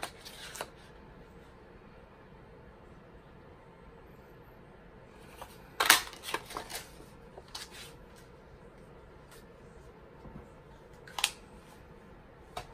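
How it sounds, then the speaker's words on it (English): A 1 1/2 inch paper punch cuts through paper in a few sharp, close clicks and snaps, with quiet rustling and handling between them over a calm, faint background. "I'm just going to actually use my punch. And I'm using a 1 1/4 inch punch."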